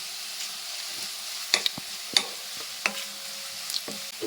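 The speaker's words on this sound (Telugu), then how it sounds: "సో ఆనియన్స్ అనేది గోల్డెన్ బ్రౌన్ రావాలి, అంతవరకు రోస్ట్ చేసుకోండి" Onions roasting in a pan until golden brown while cooking curry leaf rice: a quiet, steady sizzle broken by a handful of sharp spoon-against-pan clicks and stirs, with no voices.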